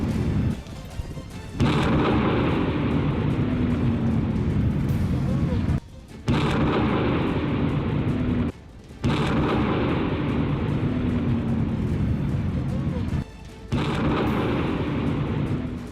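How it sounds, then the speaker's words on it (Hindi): Sustained heavy rumbling blasts fill the clip, loud and continuous, broken by a few short gaps, like a big explosion with roaring debris, as the army destroys explosives in an empty area. "सेना ने वक्त रहते बारूद को खाली इलाके में ले जाकर जोरदार धमाके में नष्ट कर दिया"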